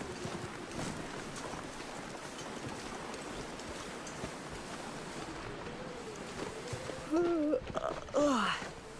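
Wind blowing in the survival video game The Long Dark: a continuous, rushing gale with shifting gusts, steady throughout, with a few brief warbling tones rising above it near the end.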